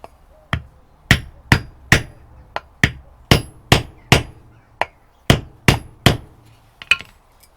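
A hammer taps a bearing through a wooden block into a Land Rover 110 hub. About fifteen sharp, loud, close blows land at an uneven pace, each ringing briefly before the next.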